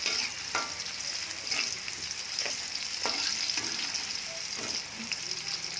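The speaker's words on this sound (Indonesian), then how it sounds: "Tumis lagi, tidak usah sampai gosong-gosong banget." Onions sauté in a pan with a continuous sizzle, broken by periodic scraping stirs from a spatula that come through clearly every second or so.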